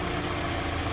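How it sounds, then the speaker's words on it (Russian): Steady running of a Mazda SkyActiv 2.5 car engine with a bearing-shell knock, heard as a dense, even mechanical drone at constant level throughout, close by with no speech. "Запустили автомобиль"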